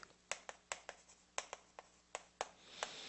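A lecturer writes on a board during a civil-law class, a quick series of about a dozen sharp taps and short scratchy strokes at an irregular rhythm, close and faint, with no talking.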